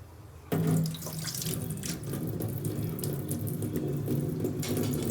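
After a brief quiet moment, a strong stream of water suddenly gushes into a pot of rice for chicken biryani and keeps pouring steadily and loudly to the end.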